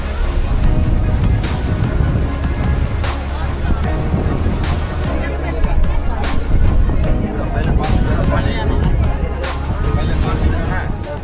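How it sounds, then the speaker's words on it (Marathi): Indian Ocean surf rolls steadily along the shore at Dhanushkodi, a continuous wash of waves under heavy, blustery wind rumble on the microphone, with no break throughout. "हा जो माझ्या मागे आहे तो हिंद महासागर"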